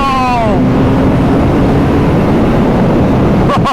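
A 2022 Triumph Rocket 3 R motorcycle accelerating hard in fourth gear as the throttle opens, a loud close roar with heavy wind rush and a rising whine at the start, and a quick shift near the end.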